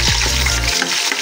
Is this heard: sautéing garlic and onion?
yes